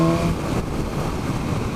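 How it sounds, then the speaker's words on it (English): A 2017 BMW S1000R motorcycle with an Akrapovic exhaust and Euro 4 tuning, heard coasting off the throttle on overrun. The exhaust gives a loud, rough, crackling roar that holds steady for a short stretch. "beautiful pop and bang on the overrun that this bike does from stock with the Akrapovic and the Sport model"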